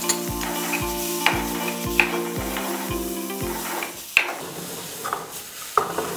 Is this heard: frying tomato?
yes